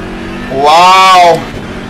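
BMW M4 GT3 race car engine in the Assetto Corsa Competizione racing game, loud and close, rising in a brief revving surge that lasts under a second before falling back, over steady background game sound.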